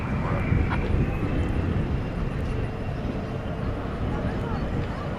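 Alaska Airlines flight 380 from San Diego arrives at Dallas/Fort Worth airport at night, a steady, fairly loud jet roar that holds evenly across the whole span without clear peaks.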